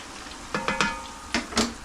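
Tortilla chips frying in oil that started cold and is coming up to temperature, giving low background bubbling broken by a few louder crackling bursts and a clink of utensils, close by with no voices.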